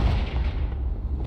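A Confringo fire spell blasts in Hogwarts Legacy: a single deep, booming explosion that rumbles heavily and fades over about a second.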